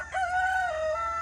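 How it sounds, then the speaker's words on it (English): A rooster crows once nearby, a loud, drawn-out cock-a-doodle-doo with a rising then sustained tone, heard at a farm stop during a Pennsylvania RV trip. "And the cock-a-doodle-doo woke me up."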